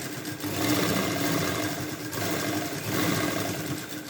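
A sewing machine stitches a V-neck design in fabric, running steadily and close with a continuous mechanical whir that swells slightly in brief surges, heard alone without talk.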